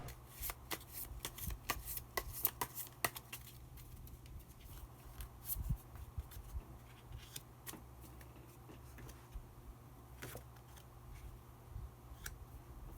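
Tarot cards shuffled and drawn by hand in a quiet room, a run of crisp riffling flicks and slaps, busiest in the first few seconds, then scattered card snaps and soft handling over a low steady hum.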